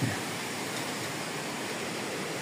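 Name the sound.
strong wind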